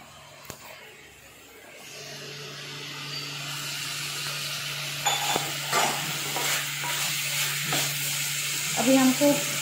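Chicken sizzles steadily in a hot pan while a utensil stirs and scrapes, with occasional clinks, growing a bit louder over time.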